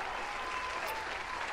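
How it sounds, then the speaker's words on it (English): A canned applause effect, a dense, steady wash of clapping from a crowd that runs loud and unbroken for the whole short stretch. "here comes the fake applause again"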